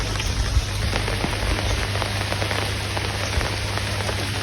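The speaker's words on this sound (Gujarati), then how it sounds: "પણ વરસાદ ચાલુ છે" Steady rain falls continuously on a farm in Gujarat, a dense even patter on surfaces with no voices.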